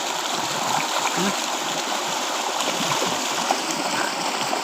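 Floodwater rushes steadily over a farm road near Vadgaon Fanepur in Lohara, Dharashiv, a loud, continuous broadband roar with no breaks.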